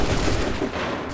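Massed musket volley in Assassin's Creed III, a dense, loud burst of overlapping gunfire sustained with no clear gaps between shots.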